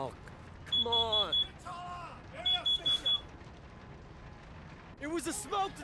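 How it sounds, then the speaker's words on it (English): A smoke detector alarm sounds in three short bursts of high, steady beeping, separated by pauses, with a voice-like harmonic sound mixed in across each burst. "It was a smoke detector."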